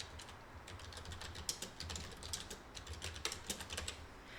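Rapid, light clicking of a computer keyboard as text is typed, irregular keystrokes close up and fairly quiet, with no speech over it.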